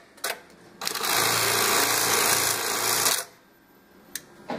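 A CHNKI CLK1900D industrial sewing machine stitches a box-and-cross pattern, one steady loud mechanical whir of about two seconds with clicks before and after.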